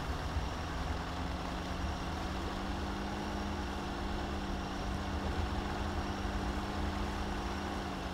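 A heavy truck engine labors in deep mud in SpinTires MudRunner, a steady low droning rumble that holds near stalling, loud and continuous with no talk.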